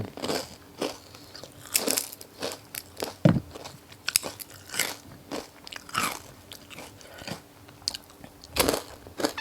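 Crispy grilled pork is bitten and chewed up close, with loud crunches and crackles repeating in an irregular rhythm of bites, each followed by softer chewing.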